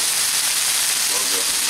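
Peppercorn bacon from Aldi sizzling on a big Blackstone griddle outdoors, a loud, steady, bright hiss of frying fat that stays constant throughout at close range.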